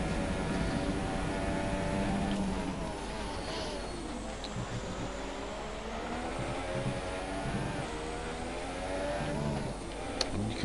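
Formula 1 race car engine from the F1 2017 video game, a continuous high-pitched whine with rising and falling harmonics through gear changes, loud and steady throughout with a voice talking faintly underneath.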